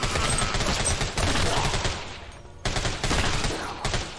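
Sustained video game gunfire, a dense rattling fusillade of rapid shots that fills most of the clip, drops briefly, then resumes at full loudness.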